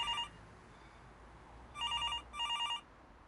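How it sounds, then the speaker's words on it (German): A telephone bell rings in short bursts, one brief ring at the start then two longer double rings, fairly faint against a quiet background. "Dieses Geräusch. Das Telefon."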